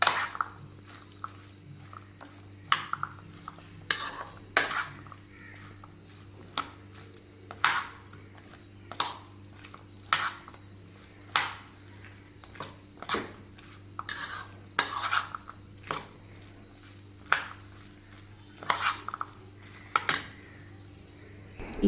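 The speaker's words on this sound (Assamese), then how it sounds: "তাৰপাছত ভালকৈ মিক্স কৰি ল'ম।" A spoon stirs ground sesame mixture in a bowl for a sesame pickle, sounding as a long run of close clinks and scrapes against the bowl with soft squishy mixing between.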